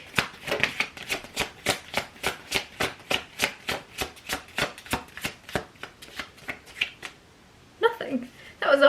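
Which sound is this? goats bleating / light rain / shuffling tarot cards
shuffling tarot cards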